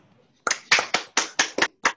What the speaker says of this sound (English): If you can unmute your mics, and let's thank him, give him a round of applause.